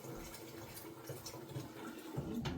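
Tap water running into a pot in a home kitchen, a steady gurgling splash with small clinks near the end, close and fairly quiet, no voices.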